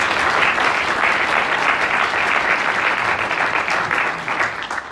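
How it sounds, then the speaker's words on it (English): An audience at a conversation event gives Baroness Paisley a loud, sustained round of applause that holds steady and then begins to fade near the end. "maybe we just give a round of applause for Baroness Paisley"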